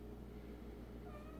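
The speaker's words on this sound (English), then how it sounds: "This is my kitty." A pet cat meows softly against a steady indoor background hum, the thin call rising briefly near the end of the moment.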